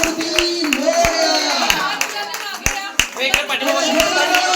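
Applause from an audience at a housing-society game show event, with loud, continuous clapping and sharp individual claps standing out, mixed with voices and cheering.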